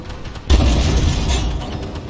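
A single heavy, booming cannon or missile shot from a Leclerc tank in Armored Warfare, close and loud, with a long rumbling tail over steady battle ambience.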